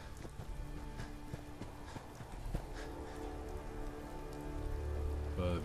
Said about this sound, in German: Irgendwie regnet es fast immer, wenn ich hier bin.